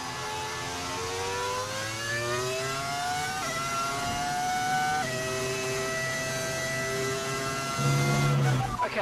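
An F1 25 video game race car engine with an engine audio mod, revving up through the gears with rising whine and sharp upshifts, loud and steady, with a brief gear change near the end.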